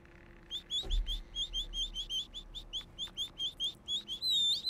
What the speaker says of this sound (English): This is just what happens when you go to like the bird exhibit at the local zoo.